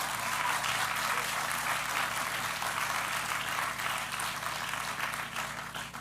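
A gala audience at a university Hall of Fame dinner breaks into sustained, dense applause that carries steadily and begins fading near the end.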